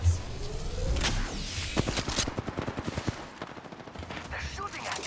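Rapid gunfire bursts in a first-person shooter game on a Nintendo Switch port, sharp repeated shots clustered mid-clip among explosions and game effects, with voice callouts heard in between.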